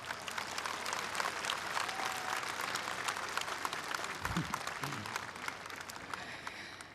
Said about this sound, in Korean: 힘찬 박수로 또 격려 부탁드리겠습니다.